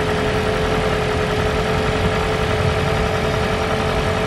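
A 2010–2015 third-generation Toyota Prius hybrid's gasoline engine idles after starting on its own, a steady, even drone with a faint tonal hum that holds constant and close throughout, with no talking.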